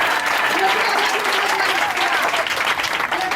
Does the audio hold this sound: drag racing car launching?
no